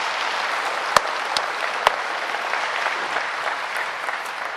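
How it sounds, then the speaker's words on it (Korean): Congregation applauding during a sermon, a continuous wash of clapping from a large crowd with a few sharper claps standing out. "그 지지 환영하거든 박수해요."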